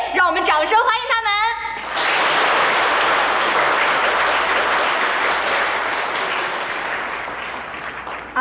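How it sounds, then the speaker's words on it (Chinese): A voice speaks briefly, then a debate competition audience breaks into thick, sustained applause welcoming a team, a dense wash of clapping holding steady before tapering slightly toward the end. "让我们掌声欢迎他们"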